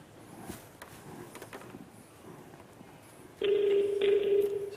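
Phone call placed to India: faint soft taps and clicks of dialing give way to a loud, steady electronic ringing tone that sounds continuously through the final second.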